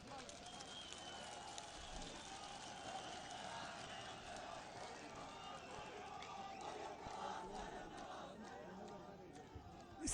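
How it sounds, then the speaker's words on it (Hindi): Crowd at a PML-N political rally in Sakardu cheers and applauds in a welcome, a steady mid-distance roar of voices and clapping holding for about ten seconds, with a louder burst at the very end. "इनके लिए जोरदार तालियों से इनका इस्तकबाल कीजिए।"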